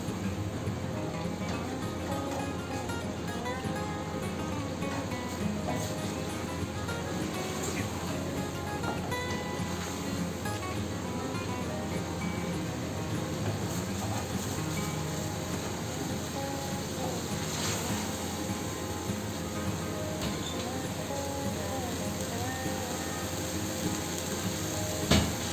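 Chicken with onion and tomato frying in a pan, a steady broadband sizzle and crackle of bubbling liquid running throughout at moderate loudness, with a voice speaking over it at times.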